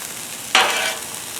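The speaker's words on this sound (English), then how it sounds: "we're just going to sizzle this, griddle it, whatever you want to call it, right here on this griddle" Food hits a hot griddle with a sudden loud sizzle that hisses on briefly, then fades back to a quieter background fry.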